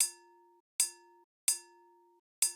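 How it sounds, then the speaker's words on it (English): Sampled bell notes in the Kontakt software sampler ring out four times at a steady pace, each a bright, clanging strike with a ringing tone that is cut short, clean and close, with no voices. "we've got these bell sounds"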